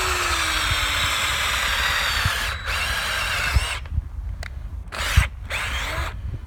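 A drill-powered soil tiller churns into clay soil with a steady, loud whine that cuts out partway, followed by bursts of revving and scraping thuds as the tines dig.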